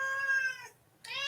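A large domestic cat meows close by, giving a long drawn-out meow, a brief pause, then a second rising meow, loud and clear with no talking over it.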